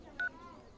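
A single short phone keypad dialing tone beeps once, clear and brief, over a quiet room background as someone places a call.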